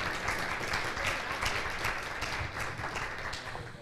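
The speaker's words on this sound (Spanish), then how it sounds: "ahora sí, un aplauso para el padre Rafael Santana." A crowd applauds steadily at a panel event, a dense wash of clapping that holds at an even level for several seconds.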